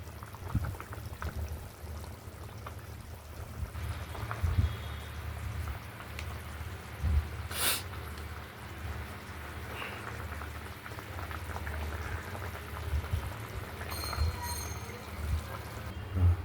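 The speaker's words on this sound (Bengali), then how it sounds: "মাছের ঝোলটি ফুটছে।" A pot of fish curry with katla fish, potato, ridge gourd and tomato bubbles on the stove: a soft, steady simmering patter with occasional louder pops, faint and close.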